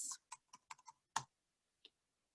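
Computer keyboard keys are typed in a quiet room, a short irregular run of soft clicks followed by a pause and one last tap.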